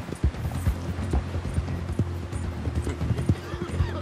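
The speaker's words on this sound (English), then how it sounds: "Just gotta chase this fool in the dark on horseback down a mountain cliff." Horse galloping at night down a mountainside in Red Dead Redemption 2, rapid rhythmic hoof clip-clops thudding close by throughout, with a faint steady tone beneath.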